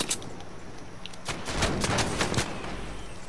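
A burst of gunfire in the Fortnite video game, a quick cluster of sharp shots at moderate distance over a steady game background.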